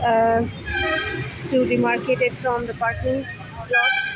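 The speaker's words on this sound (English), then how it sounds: "Please excuse the noise of the vehicles, it's roadside, so a lot of noise anyway." Roadside traffic with vehicle horns tooting in the background beside a parking lot, heard under steady close talking throughout.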